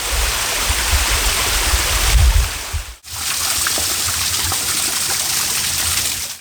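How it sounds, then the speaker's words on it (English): Steady broadband rush of a woodland waterfall in winter, loud and close, continuing without pause apart from a brief cut in the middle; no voices. "The final waterfall is the largest, the most hidden, and the most difficult to reach."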